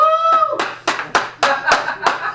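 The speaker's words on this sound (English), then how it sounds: "Always very little applause." A few people clap sparsely at a stand-up comedy show, a short run of about six uneven claps close by, following a voice and a brief whoop.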